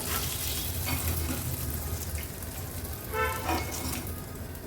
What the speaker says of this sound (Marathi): उरलेले चिकनचे पीसेस असेच फ्राय करून घेते